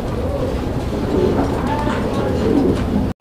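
Satin pigeons coo softly amid a busy background hum, with faint bird calls layered over steady noise before an abrupt cutoff.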